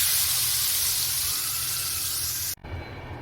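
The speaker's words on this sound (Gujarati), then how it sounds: "મિક્સ કરી ને વઘાર આપણે આ રીતે ઉપર નાખી દેવાનો છે" Hot tempering with asafoetida and red chilli hisses in a loud, dense, continuous sizzle as it is poured over Kathiyawadi undhiyu, then cuts off abruptly and resumes more quietly.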